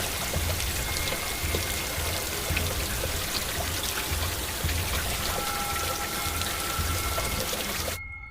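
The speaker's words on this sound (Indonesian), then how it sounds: "hujan turun dengan derasnya" Heavy rain pours down steadily as a dense, even hiss of drops on surfaces, continuous and fairly close, with no voices, before cutting off at the very end.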